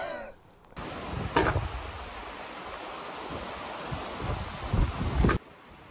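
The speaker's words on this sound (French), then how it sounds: "si le vent souffle comme ça" Strong wind in the Norwegian mountains roars steadily into the microphone of a cyclist for several seconds, with rough gusty buffeting peaks before it cuts off abruptly.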